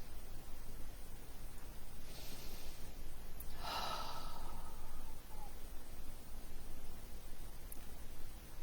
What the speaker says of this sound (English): So I invite you to take a couple of deep breaths.